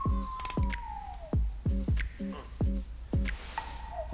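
Hemostats ratchet shut in a series of sharp, close metallic clicks, about six evenly spaced snaps clamping a brush jig, with a thin tonal squeak sliding down at the start.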